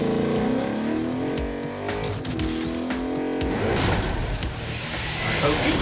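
A car in the video game Agents of Mayhem revs hard and accelerates, its engine tone climbing and shifting through gears amid tire noise, loud and close throughout.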